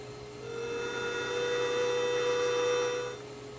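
Horn sound effect played through the small onboard speaker of a model lake freighter, Saginaw, one steady tonal blast of about two and a half seconds over a faint electrical hum, with no talking.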